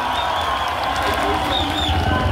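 Applause and cheering from a crowd at a Kenyan political rally in Tharaka Nithi, honouring the deputy president of Kenya; steady dense clapping and shouts fill the short stretch without pause.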